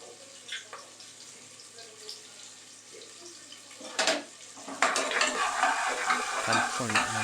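Onions and ginger paste fry in a pan on the stove for a Telugu-style green pea and tomato curry, a soft sizzle with stirring scrapes and clatters that grow busier toward the end.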